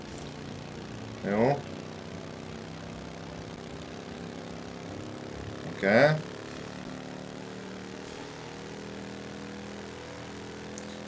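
Motorcycle engine in Mafia Definitive Edition, a steady low drone running throughout, with brief talk breaking in twice over it.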